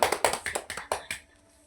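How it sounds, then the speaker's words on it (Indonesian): Children in a primary school science class clap for a classmate, a short burst of sharp close hand claps lasting about a second before stopping abruptly. "Tepuk tangan dulu untuk teman kita Desi."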